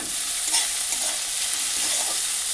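Ginger, chopped capsicum and green chili sautéing in a pan for veg momo filling, a steady close hiss of frying with a few soft stirring scrapes, no voices.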